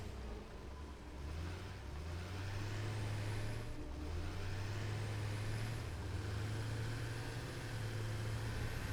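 A cargo truck in the video game Satisfactory drives with a steady, low engine drone whose pitch rises and falls in smooth swells, heard alone and fairly quiet.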